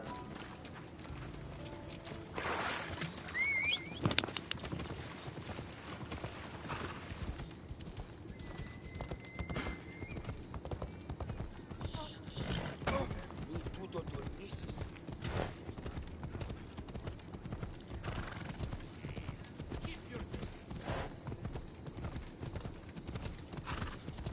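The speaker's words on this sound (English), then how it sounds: "summon our horse, and we'll ride." Horse hooves clip-clop in a steady galloping rhythm while riding in Assassin's Creed Odyssey, clear and continuous throughout, with occasional mechanical clicks and a brief whinny.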